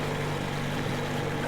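A vehicle engine idles in Metro Exodus, giving a steady, close, low mechanical drone with no breaks or changes in pitch.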